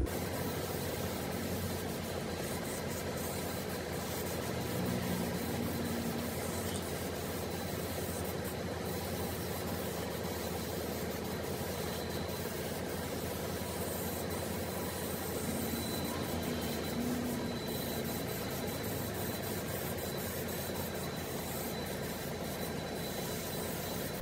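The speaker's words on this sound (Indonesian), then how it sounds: "kita semprotkan tipis-tipis aja bro supaya dominan hitam" A spray gun lays a light coat of blue paint over the black body panels of a Honda Revo motorcycle, a steady hiss running continuously and evenly throughout at moderate level.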